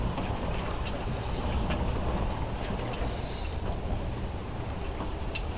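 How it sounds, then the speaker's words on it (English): Steady, loud wind roar buffets the microphone without pause while sailing upwind on Puget Sound, with rushing water and boat noise underneath and no voices. "The wind noise is going to get unbearable if I leave the Dodger here."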